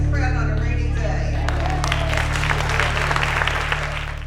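Dense, loud applause from a large outdoor crowd on a rainy day, continuous clapping over a low steady hum, with cheering voices mixed in.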